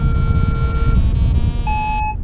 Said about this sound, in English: sorry about the Vario beep